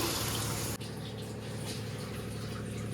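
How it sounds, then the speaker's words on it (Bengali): Water goes into a bitter gourd curry of fried spices in a pan, a steady soft rushing pour with a brief dip partway, then an ongoing watery hiss, close and fairly faint. "মশলা কষা হয়ে গেলে জলটা দিয়ে দিচ্ছি"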